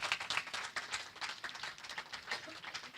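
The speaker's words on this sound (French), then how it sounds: "put your hands together for them." A church congregation applauds the choir and musicians with steady, dense clapping that spreads through a large room and is heard at a moderate distance.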